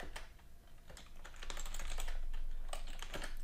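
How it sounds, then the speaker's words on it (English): Quiet, close typing on a computer keyboard, a quick irregular patter of soft key clicks that runs steadily for a few seconds with no talking. "And let's type in Python."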